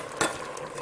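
Garlic salt being stirred into gumbo in a pan, a brief scraping stir with a soft sizzle of frying underneath, one short louder stroke near the start and then steady low crackle.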